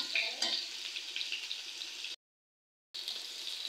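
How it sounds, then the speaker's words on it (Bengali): Potatoes and pointed gourd fry in a pan with a soft, continuous sizzle, broken by a short gap of silence before the frying resumes. "আর আলু পটল গালা একটু হালকা করে ভেজে নেওয়া হয়ে গেছে"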